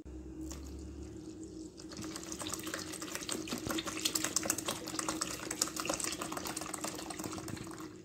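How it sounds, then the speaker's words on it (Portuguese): Room-temperature tap water runs steadily from a faucet into a mixing bowl that already holds detergent, a continuous close splashing and gurgling pour that starts after a brief quiet moment. "Vão pegar a água também e vão colocar aqui dentro."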